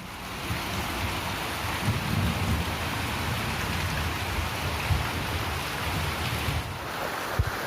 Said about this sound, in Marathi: दुपारपासून पाऊस बेकार लागतो घडघडते पण बेकार